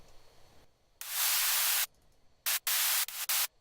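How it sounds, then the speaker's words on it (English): Bright bursts of synthesized white noise for a future bass synth layer, one long block followed by several shorter chopped ones, loud against a quiet background. "So once again, simple white noise."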